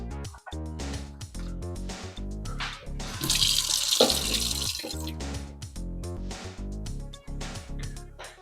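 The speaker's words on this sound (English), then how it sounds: "and add some tap water." Tap water pours into a regular kitchen cup holding seeds set out to soak, a steady splashing stream under continuous background music that swells for a few seconds in the middle.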